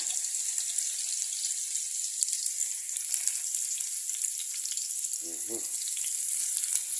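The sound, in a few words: sautéing garlic and vegetables in oil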